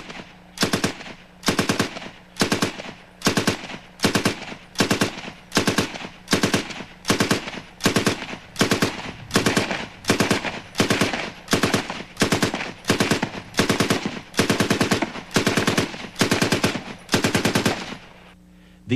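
Machine gun chambered for the NATO cartridge, cyclic rate 550 rounds per minute, firing about twenty short, loud, evenly spaced bursts in steady succession, close and with no talking.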